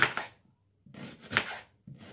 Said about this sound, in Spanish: Vamos a rebanar un poco de cebolla en medias lunas para ponérsela a la longaniza cuando se esté friendo.